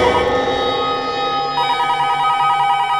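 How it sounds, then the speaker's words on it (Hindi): A telephone rings in a crime drama police office, a loud close electronic ringing that shifts to a steady repeating trill partway through, with no one talking over it. "लगता है किडनैपर का ही फोन है।"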